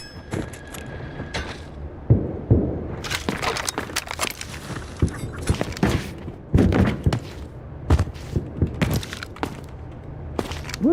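Gunfire in the video game Delta Force during a competitive match: scattered sharp cracks and short bursts, some close and loud, others fainter, spread irregularly with quiet gaps between them and no talk.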